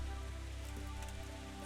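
Steady rain falls in the medieval game Kingdom Come: Deliverance, a constant hiss of drops on surfaces with a low tonal background hum beneath it.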